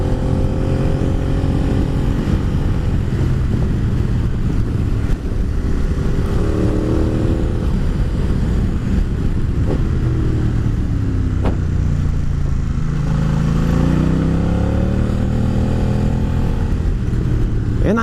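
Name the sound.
Aprilia Caponord motorcycle engine accelerating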